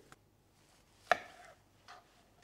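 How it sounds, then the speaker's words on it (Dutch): Chestnut mushrooms are cut into quarters with a knife, giving one distinct chop on the board and a couple of fainter taps, close and quiet with no talking. "En dan kunnen we nu eventjes de champignons snijden. De kastanjechampignons."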